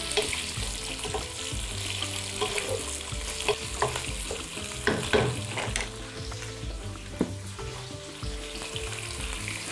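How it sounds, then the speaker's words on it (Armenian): Lamb pieces fry and sizzle in a pot with cumin seeds while being stirred, then boiled water is poured in; a steady close sizzle with scraping stirs and small clinks throughout, no voices. "մեկ-երկու րոպե տապակելուց հետո ավելացնում ենք եռացրած ջուր։"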